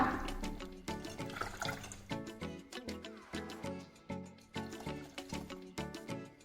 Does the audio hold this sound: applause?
no